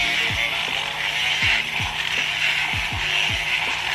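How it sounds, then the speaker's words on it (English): An electric mixer whips butterbeer-flavored coffee in a bowl, giving a steady whirring hiss broken by repeated scraping knocks as the beaters hit the sides. "we're gonna start with the mixer in the bowl"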